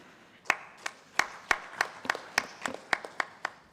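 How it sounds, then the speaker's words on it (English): A small conference audience at a national health care quality improvement event claps sparsely, with individual sharp hand claps spaced irregularly and heard fairly faintly, never building into full applause. "Another round of applause to the team."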